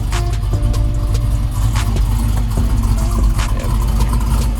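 A 1969 Camaro Z28 with a 680 hp LS3 engine and glasspack exhaust pipes idles loudly and close by, with a deep, steady, lumpy rumble and occasional slight blips throughout.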